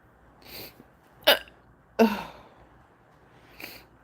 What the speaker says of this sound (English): Oh no, I got the hiccups now.